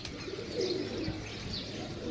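Soft pigeon cooing over a steady background hum, low murmuring calls repeating through the short stretch with no talking.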